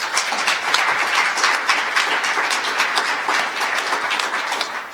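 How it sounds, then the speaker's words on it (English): A warm round of applause from an audience at a public event, dense and loud clapping that holds steady and then eases slightly at the end. "Warm round of applause, please."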